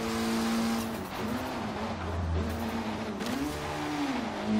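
A slammed all-wheel-drive Mitsubishi Galant in Forza Horizon 3 revs and shifts, engine pitch climbing and dropping through several gear changes, loud and close, with faint tire noise and no talk.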